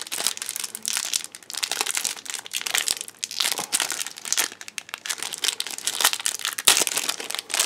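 Cards from a MegaCorp base set booster pack bent and pulled open, a steady run of close, crisp crinkling and crackling foil with sharp rustles throughout.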